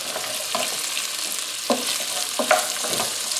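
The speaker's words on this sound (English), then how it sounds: "We're going to put those in and saute for about 5 or 6 minutes, maybe a little bit longer." Chopped onion and fennel sauté in a pan for a cioppino seafood stew, a soft, even sizzle broken by a few short stirring scrapes.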